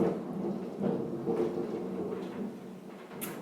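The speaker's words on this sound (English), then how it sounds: "so that was the thunder." Thunder rolling through during a storm, a low, steady rumble that swells and fades in slow waves, with a brief sharper crack near the end; no voices.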